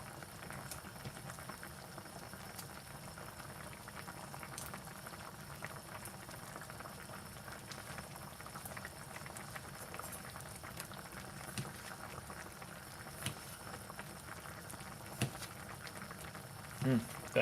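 A pot of chicken of the woods and shrimp mushroom Thai curry simmers steadily, with a dense, quiet bubbling and popping that runs throughout, close by and without pause.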